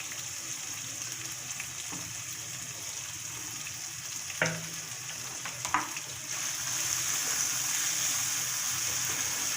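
Chicken with chili garlic sauce cooks in a pan under a low, steady sizzle. A few scattered clinks and scrapes cut through it, and the frying hiss grows slightly fuller near the end.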